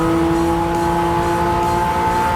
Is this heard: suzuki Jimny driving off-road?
yes